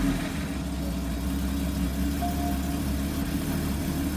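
A Porsche Boxster 981 engine idles steadily after starting, a low even mid-pitched hum with a faint rise partway through, close and alone without voices.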